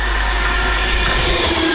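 Pendolino passenger train roaring past at Stafford on the West Coast Main Line, loud and close with a continuous rushing rumble of wheels and wagons and no voices.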